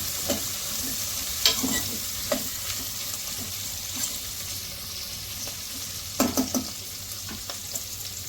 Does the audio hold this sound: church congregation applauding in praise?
no